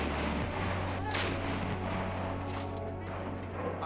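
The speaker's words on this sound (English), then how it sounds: "Under heavy enemy artillery and mortar fire, Captain Nair climbed up those heights" Heavy artillery and mortar fire in the Kargil heights during wartime, heard as dense rumbling booms and distant blasts rolling continuously over a low background drone.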